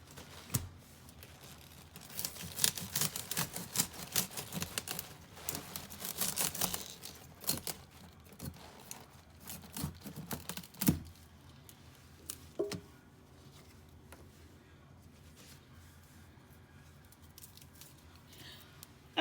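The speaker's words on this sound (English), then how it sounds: "So I'm just gonna cut right in this section here." A knife slices through collard green leaves and stems on a cutting board, with irregular crisp snips, crunches and leafy rustles, close and fairly quiet, no talking.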